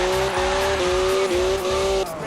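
A McLaren Senna in Forza Horizon 4 squeals its tires in a sustained high whine over a roaring engine, near and loud, with brief dips as the pitch shifts, and no talk.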